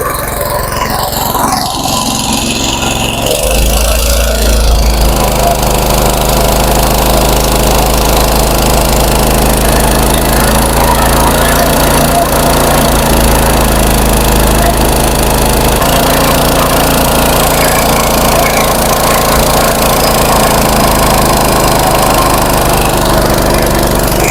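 A petrol-engined motor water pump drones loudly and steadily at full power, close by, with a rough low rumble and mechanical rattle after a brief start-up at the beginning.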